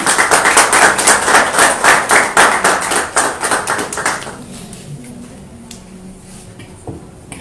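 An audience claps at a book launch event, a loud burst of many hands that holds for about four seconds, then drops off to faint room noise with a few stray claps.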